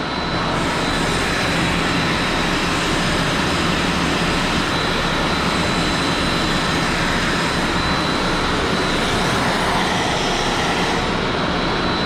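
A Smartbot 2800 utility pump runs in a wave surge pit, giving a loud, dense, unbroken roar and rush of churning water that holds steady throughout without any voices.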